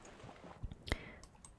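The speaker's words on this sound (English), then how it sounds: "throughout you will be hearing my keys clicking and the tapping of the mouse a bit" Keyboard keys and a mouse click a few times, soft and close, during whispered gameplay of the game ABZU, with one crisper tap standing out among light clicks.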